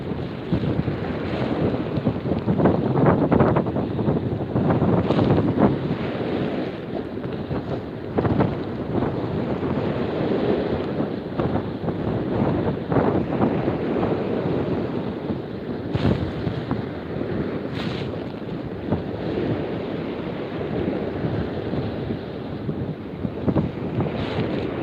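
Strong wind buffets the microphone by the ocean at night, a continuous loud roaring rumble with gusty surges and no speech.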